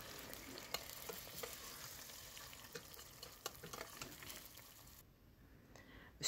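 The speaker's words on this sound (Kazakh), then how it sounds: "Енді бұның үстіне күрішімізді салып, кішкене майға араластырып," Rice stirred into a little hot oil in a pan for a chicken dish, giving a steady close sizzle and frying crackle with scraping stir strokes, the sizzle easing near the end.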